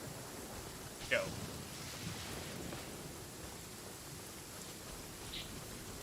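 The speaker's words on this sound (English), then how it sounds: "Man, it's raining here." Steady rain falls in the video game Genshin Impact, a soft broadband hiss that persists throughout, with a brief spoken interjection near the start.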